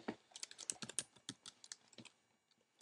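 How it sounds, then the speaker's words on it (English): Someone types on a computer keyboard in quiet, irregular bursts of crisp key clicks, each soft and close, with short pauses between keystrokes. "We're going to start typing in Coca-Cola."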